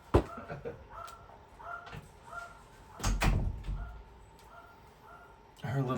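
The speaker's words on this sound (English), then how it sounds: "Let me close the door, hang on." An indoor door swings shut with a single firm thud about three seconds in, followed by a brief latch click, set among faint household noises.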